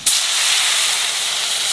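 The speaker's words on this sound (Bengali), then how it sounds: "আলু ভাজা হয়ে গেছে, এইবার জল দিয়ে দেবো।" Water hits a pan of fried potatoes in hot oil, bursting into a loud sudden hiss that settles into a sustained steamy sizzle.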